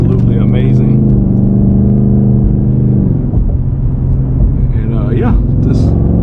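A 2025 Ford Mustang Dark Horse V8 rumbles deep and steady while driving, its low engine drone continuous under someone speaking over it.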